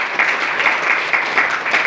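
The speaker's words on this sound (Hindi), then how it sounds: "इसलिए एक बार जोर से फिर ताली बजाइए।" Sustained audience applause at a devotional gathering honouring a guru's death anniversary, with steady crowd clapping that swells in loud, rhythmic bursts throughout.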